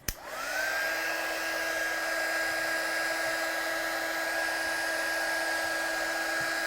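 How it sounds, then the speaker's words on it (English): An electric heat tool spins up after a click and then blows a steady whining hiss with a constant high tone, running alone and unbroken at close range while it heat-sets colour on vellum. "Just going to heat set this one then"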